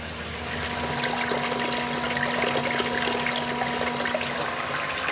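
Water runs loudly and steadily through a highbanker sluice box fed with White Channel paydirt, with a pump droning a constant hum underneath, close and continuous throughout.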